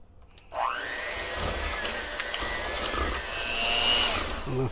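An electric mixer creaming room-temperature cream cheese with granulated sugar starts up and whirs steadily at a high, constant pitch with faint scraping against the bowl, close and continuous for several seconds, then slows as it stops.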